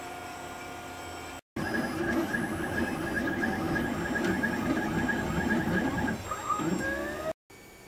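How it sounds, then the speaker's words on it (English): A DaVinci 3D printer prints a part, its stepper motors whirring and squealing in shifting tones, with steady mechanical buzzing broken by two brief cuts to silence. "So anyway, I'm printing that part"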